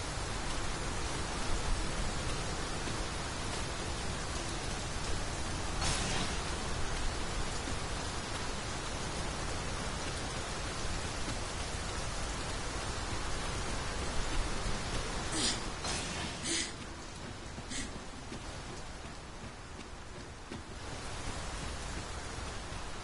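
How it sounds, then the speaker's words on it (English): Rain falling in the video game Dragon's Dogma 2, a steady broadband hiss of downpour that holds evenly throughout with a few brief sharper patters, no talk. "It's raining. Shall we wait it out somewhere dry?"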